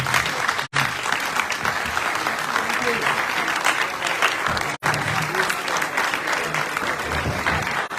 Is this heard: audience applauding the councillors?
yes